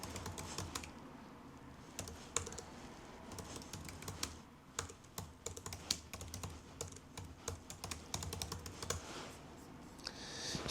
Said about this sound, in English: I used to be able to just type shit in like that.